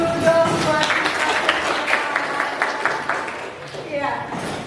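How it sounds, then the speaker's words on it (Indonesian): Classroom applause from students, a steady wash of clapping across the whole stretch that fades slightly near the end, mixed with some voices in the room. "Tepuk tangan dulu dong buat kita."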